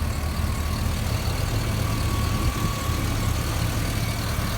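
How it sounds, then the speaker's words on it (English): A 2006 Chevrolet 2500HD 4x4 pickup with an aftermarket exhaust and K&N intake idles steadily, a low constant engine rumble and exhaust drone with no talking. "It sounds like a quality exhaust."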